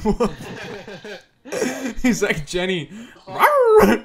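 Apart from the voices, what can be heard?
dog barking in the video game Chibi-Robo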